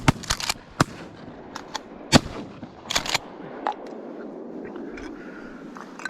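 Shotguns fire during a Midwest duck hunt, several sharp, loud blasts in irregular bursts, some in quick succession, with echoes trailing off outdoors.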